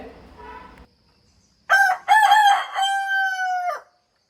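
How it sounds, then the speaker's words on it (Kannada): A rooster lets out one loud, close crow, a choppy start stretching into a long held call. A brief lower sound comes before it, then a second of quiet. "ನೋಡಿ ಕೋಳಿ ಕೂಗೋಣ ಅಂತ ರೆಡಿ ಆಗ್ತಾ ಇದೆ"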